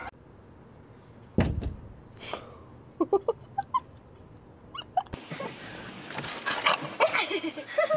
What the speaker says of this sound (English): Loose dog, Percy!